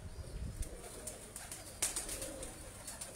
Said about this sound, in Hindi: ये देखें, ये सियालकोटी कबूतर है।